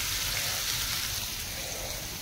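Rain falling during the rainy season, a steady, even hiss of drops that carries on without a break from start to finish, with no voices over it.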